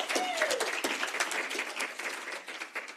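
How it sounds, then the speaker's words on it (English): Live audience applause at a solidarity talk event in Helsinki, with dense steady clapping throughout and a whoop or short vocal over it near the start. "I think we should do a round of applause."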